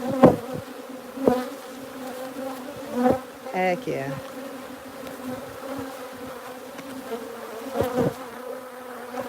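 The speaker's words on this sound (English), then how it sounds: "These bees, whilst being the most productive in the neighborhood, are also the meanest bees in the neighborhood." Honey bees buzz around open hive frames of capped honey: a constant, close hum of many insects with louder passes as individual bees fly near, under brief bumps of frame handling and a short spoken exclamation.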